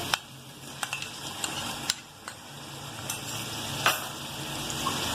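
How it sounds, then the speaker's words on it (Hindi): Soft steady sizzling of chicken frying with ginger-garlic paste in a pan, with scattered clicks and scrapes of a spoon stirring, close by and fairly quiet, no talking. "फिर चिकन के ऐड करने के बाद हम थोड़ा चमचे से हिलाएंगे तो सारी चीजें आपस में मिक्सअप हो जाए।"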